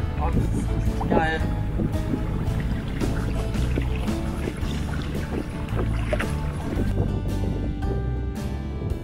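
A boat crosses a lake with a steady, loud drone of motor and water rushing close by, wind buffeting the microphone throughout.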